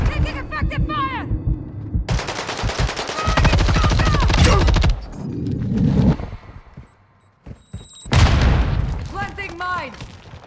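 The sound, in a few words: gunfire in Call of Duty Vanguard video game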